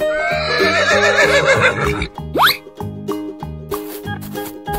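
A cartoon horse gives a loud, shaky whinny that ends in a quick rising squeal, heard close over bouncy music with a regular plucked beat that carries on after the neigh.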